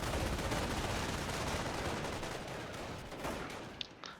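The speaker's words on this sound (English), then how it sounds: "Machine gun's shooting them, but it's not going to do much." Machine gun fire in the strategy game Company of Heroes: a loud, unbroken stream of rapid gunfire at close range that fades slightly near the end, with one sharp crack just before it stops.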